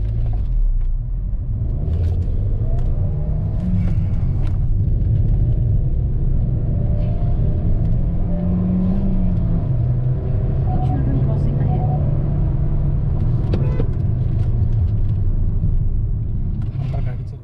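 Volkswagen Taigun GT driven in manual mode, a loud steady in-cabin engine and road rumble that rises and falls slightly under continuous nearby talk.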